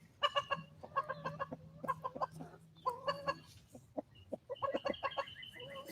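Chickens cluck close by in short bursts of sharp, choppy calls, loud and overlapping, with brief pauses between flurries.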